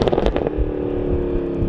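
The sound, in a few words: sports car exhaust crackling on gear shift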